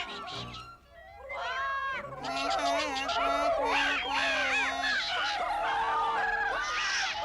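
Several high, squeaky cartoon Smurf voices chatter and squawk over one another, imitating a flock of birds with rising, cawing cries that grow louder and busier.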